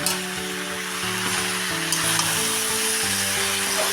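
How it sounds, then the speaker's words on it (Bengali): Taro leaves hit a hot, oily frying pan and are stirred, making a loud, steady sizzle with scraping stirs throughout. Soft background music plays underneath. "এখন আমি কচুর শাকটা ওপর থেকে দিয়ে দেবো। এবার ভালো করে নাড়িয়ে দেবো।"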